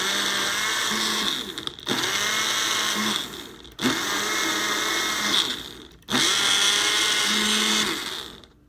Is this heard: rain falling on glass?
no